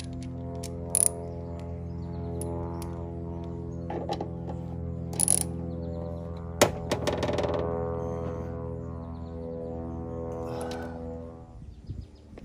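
A bolt is tightened on a vertical Lambo door kit on a Cadillac CTS Coupe, giving a few short ratcheting clicks and metallic knocks, close, over steady background music with no talk.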